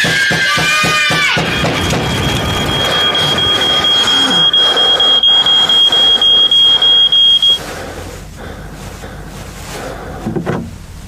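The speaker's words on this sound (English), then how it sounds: "When your smoke alarm goes off, make sure you know what to do." A smoke alarm sounds in a 1996 fire safety PSA, first as rapid pulsing beeps, then as a long sustained high-pitched tone that runs for several seconds amid loud background noise before cutting off.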